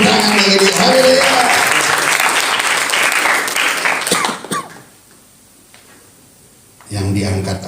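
Church congregation clapping loudly during a worship service, a burst of applause lasting about four seconds before dropping to near silence, then a loud swell of music or voices returns at the end.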